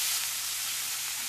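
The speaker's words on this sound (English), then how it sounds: "Just lay them in your pan. That's sizzle." Chicken breasts sizzle in a hot pan with a steady, close, bright crackling hiss, uninterrupted and without speech.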